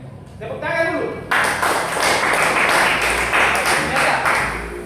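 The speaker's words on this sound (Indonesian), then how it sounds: "Baik, tepuk tangan dulu." A classroom group claps together, a dense burst of applause that starts after a brief voice and carries on steadily for several seconds, fairly close and loud.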